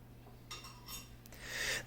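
A spoon stirs molasses into hot fermentation mash for sugar shine, making a few faint clinks and soft scraping scrapes against the pot, quiet and brief with no talking.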